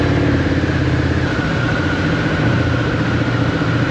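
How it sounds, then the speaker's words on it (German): A Harley-Davidson Pan America Special 1250 motorcycle engine idles fast and steady at about 2000 rpm after a cold start, loud and close, with no voices. "manchmal nach dem Kaltstart des Motorrads läuft der Motor irgendwie auf 2000 Umdrehungen"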